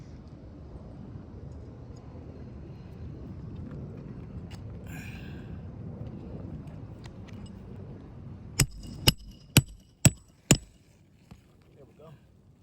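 Five sharp hammer strikes land in quick succession during a roof repair done with a roof snake, following a stretch of low background rumble and brief speech.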